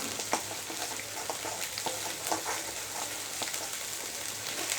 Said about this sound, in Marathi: वांगे तेलामध्ये छान परतून घेतलेले